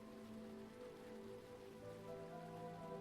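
Steady rain patters down inside a video game world, a dense continuous hiss of drops holding level throughout with a soft tonal hum running underneath.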